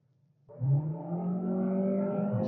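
A 2022 Volkswagen T-Roc climbs uphill, its engine rising from near silence into a strong, steady, close-up drone with clear tonal harmonics that holds level, no talking over it.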